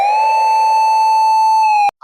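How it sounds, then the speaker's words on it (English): A single steady siren tone sounds loud and close for nearly two seconds, then cuts off abruptly, leaving a brief faint noise. "police sirens echoed through the streets."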